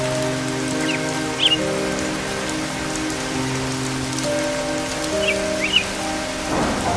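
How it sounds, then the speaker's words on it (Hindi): Rain in a cartoon, steady pattering raindrops over a sustained musical drone, with a couple of faint bird chirps and a soft rumble near the end. "बारिश की बूंदों की वजह से खड़खड़ हुई होगी"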